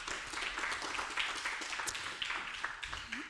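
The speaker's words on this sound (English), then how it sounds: "Give a round of applause." A conference audience gives faint, distant applause after a paper presentation, a thin, steady patter of clapping at low level.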